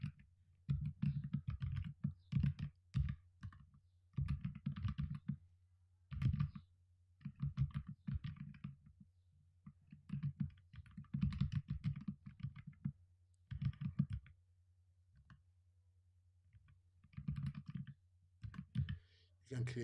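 A computer keyboard clicks in short clusters of typing, separated by pauses. Someone talks over and between the bursts.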